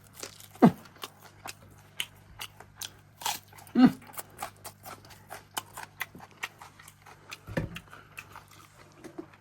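Someone eating hot, freshly fried hilsa fish, with close, quiet crunchy bites and wet chewing in an irregular rhythm, a few sharper bites standing out over a low steady hum.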